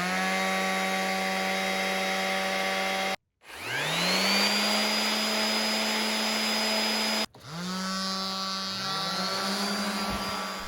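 DeWalt random orbit sanders, variable speed from 8,000 to 12,000 orbits per minute, one corded and one 20-volt brushless battery model, running at full speed: a steady close whine that stops and spins up again twice.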